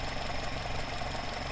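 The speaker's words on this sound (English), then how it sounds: "The engine revs are coming down slightly and then picking up again." A car engine fitted with twin Dellorto or Weber carburettors idles steadily with a low, even pulsing throb, its revs easing down slightly and picking back up, heard close and alone.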